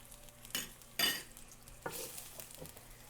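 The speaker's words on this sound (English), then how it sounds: "I've got my cast iron pan here on the stove heating up. I'm going to add a little bit of tallow." Tallow fries in a hot cast iron pan on a stovetop: a steady soft sizzle runs throughout, broken by a few sharper scrapes and stirring strokes, close and moderately quiet with no voices.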